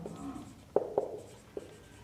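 Chalk or marker writing on a board during a maths lesson, a few short sharp taps and strokes spaced irregularly over a quiet background.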